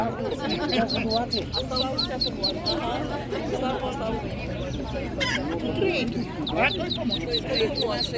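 Domestic poultry at a busy Ukrainian market cluck and cackle in rapid repeated bursts close by, mixed with a rooster-like call, while people chat and haggle over the birds.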